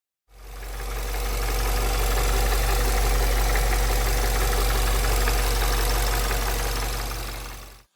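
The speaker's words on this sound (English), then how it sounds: "after our last rebuild, a mystery rattle showed up, only when the engine is cold and not at operating temperature" A rebuilt car engine idling while cold, with a steady low rumble and a persistent mechanical rattle or knock running through it, close-up and continuous for several seconds with no talking.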